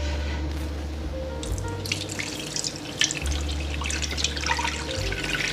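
Sorrel hibiscus juice pours and trickles steadily through a cheesecloth-lined sieve, a continuous close watery splashing with small drips, alone without talk.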